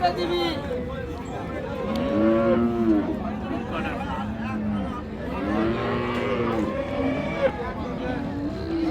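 Several cattle, including Friesian cows with calves, moo and low in overlapping calls amid a busy crowd at Raniganj livestock market in Dinajpur, with people talking throughout and a steady background hum.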